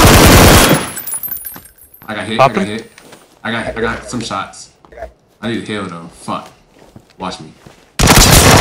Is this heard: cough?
no